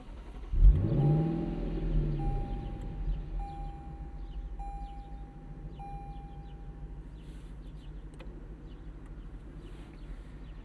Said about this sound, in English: Love the way this car bellows to life.